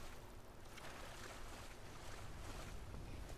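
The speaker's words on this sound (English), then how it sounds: "I didn't even know this waterfall was here." A Skyrim waterfall heard as a constant broadband rush of falling water, steady and moderately quiet, with no talking over it.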